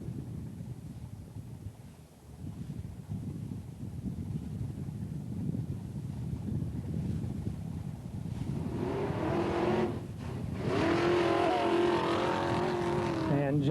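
A super gas drag race car launches and accelerates down the track at Ark City, a distant rising engine roar with wind buffeting, the note climbing and holding near the end.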